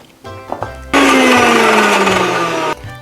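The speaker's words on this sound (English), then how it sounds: "I'm going to mash it in the mixer jar" A mixer jar grinds apple into paste in a kitchen, a loud, steady whirring drone lasting nearly two seconds, preceded by brief clicks and cut off abruptly.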